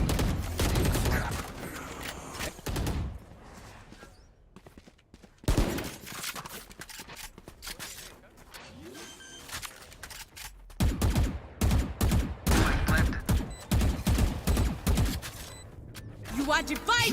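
Video game gunfire comes in rapid bursts of shots and clattering fusillades, separated by quieter gaps, with a voice talking in between.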